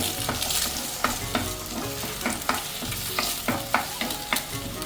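Egg with vegetables being stirred and broken up in a hot frying pan: steady sizzle under a run of repeated spatula scrapes and taps against the pan, close, no talk.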